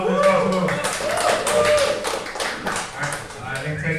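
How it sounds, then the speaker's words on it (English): Scattered clapping from a small meetup audience, a handful of people applauding unevenly with light crisp claps that rise and fade over a few seconds, with a voice heard faintly alongside. "can we get a round of applause for the founder of DotSwap who make all this possible?"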